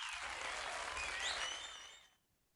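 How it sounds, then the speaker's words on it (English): A burst of applause, a dense hiss of clapping with a few whistles, holding steady for about two seconds before cutting off into quiet. "Applause."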